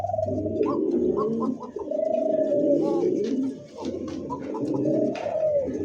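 Pigeons at a bird market coo in repeated deep, rolling phrases, loud and close, with several birds overlapping and faint chatter of other birds behind.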